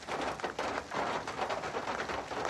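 Hail comes down during a hailstorm near Flagstaff, a dense, steady hiss and patter of stones striking the ground and surfaces, continuous and fairly close, with no voices.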